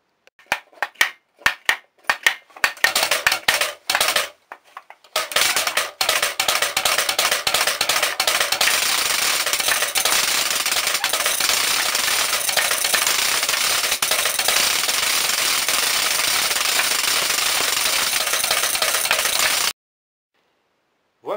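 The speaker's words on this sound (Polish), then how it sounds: "chłopcy chodzą z głośnymi klekotkami lub jeszcze głośniejszymi terkotkami, zwanymi na Kaszubach jako knare i sznere" Loud wooden Kashubian Easter rattles and clappers, knare and sznere, clatter in fast hand-cranked bursts, first in broken stop-start rattles, then a long continuous harsh ratcheting roar that cuts off abruptly, close and without talk.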